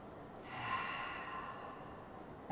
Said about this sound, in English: One more long breath.